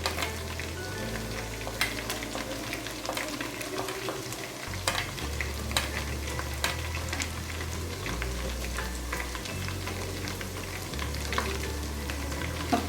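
Whole spices such as cinnamon stick, black peppercorns, cloves and cardamom frying in hot oil in a pan for chana pulao, giving a steady, close sizzle with occasional stirring scrapes throughout, no talking.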